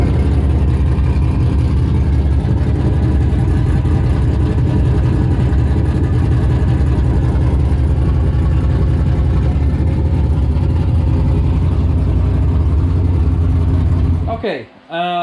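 Methanol-fueled drag race car engine runs continuously and loudly, a deep steady rumble that holds for the whole stretch before cutting off abruptly near the end.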